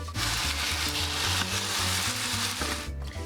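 Capsicum, tomatoes, tomato paste and rosemary cook in a ratatouille pan at medium-high heat, giving a steady close sizzle and bubbling frying noise with no talk.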